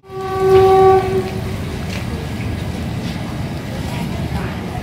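A loud train horn blares for about a second, then a steady low rumble of the train rolling in continues.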